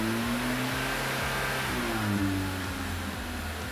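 An older car with no catalytic converter revs its engine steadily and loudly, a continuous throaty mid-range drone with rising and falling pitch throughout, with no talk over it.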